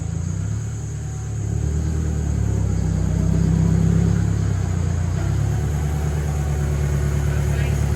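A tractor engine runs nearby, a steady low rumble that idles and swells a little in the middle before settling, holding continuously throughout.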